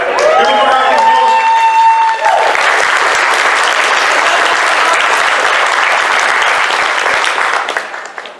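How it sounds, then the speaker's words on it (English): A crowd at a convention opening ceremony claps and cheers loudly for several seconds, a dense wash of hands that starts over a brief fanfare-like tone and thins out near the end. "Give him a round of applause."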